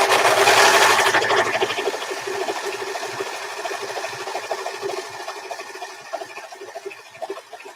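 A sewing machine stitches bunting fabric, a steady rapid mechanical whir, loudest at first and then settling into a quieter rhythmic chatter as the table wobbles beneath it.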